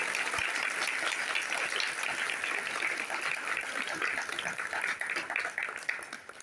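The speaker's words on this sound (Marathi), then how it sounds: "स्वतःसाठी तरी टाळ्या वाजवून जायच्या" A crowd at a Shiva Mahapuran storytelling session attended by blind children claps steadily in dense, sustained applause at moderate loudness, tapering slightly toward the end.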